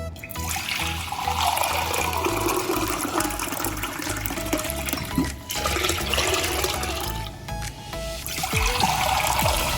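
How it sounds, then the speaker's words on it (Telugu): Water pours and splashes steadily into a pot of milk nearby for several seconds, pausing briefly midway before resuming, loud and gushing, with no talking. "రెండు లోటాలు వాటర్ వేసుకోవాలి దీనికి"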